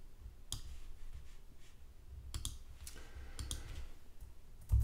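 Scattered, quiet keystroke clicks come from an equation being typed on a computer keyboard, with irregular pauses between short bursts of taps.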